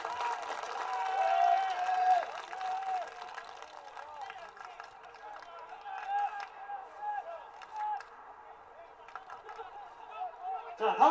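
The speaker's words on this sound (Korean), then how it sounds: "관중 여러분, 더 큰 박수로 고향 KH 선수들에게" Spectators at a K4 League football match between Goyang KH and Geoje Citizen FC applauding and cheering across an open stadium, a broad wash of crowd noise with a voice speaking over it.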